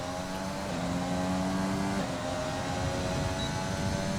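An F1 car accelerating on a straight in F1 2020, a steady, fairly faint engine whine with rising tonal lines over a constant rumble.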